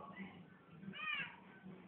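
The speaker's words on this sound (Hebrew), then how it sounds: "חתול." A cat wanders in and meows once, a fairly clear rising cry amid low background noise and faint talk.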